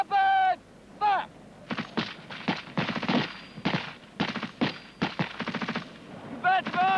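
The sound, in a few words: rapid gunfire during a fire and manoeuvre drill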